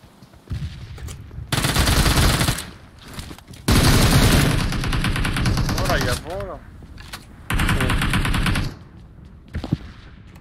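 UMP submachine gun in PUBG Mobile firing loud, close full-auto bursts, three long strings of rapid shots separated by pauses, with faint game sounds between them.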